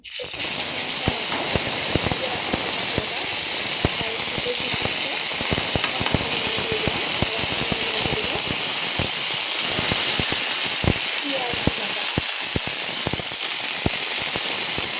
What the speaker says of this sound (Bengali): তো প্রথমে আমি এখানে দিয়ে দিচ্ছি আদা আর জিরা বাটা